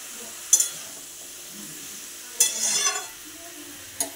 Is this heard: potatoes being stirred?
yes